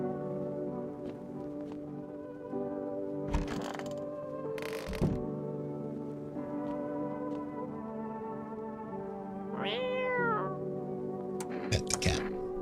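A cat in the indie game No I'm Not a Human meows once near the end with a rising then falling cry, set over a steady droning hum with a few sharp clicks and thumps.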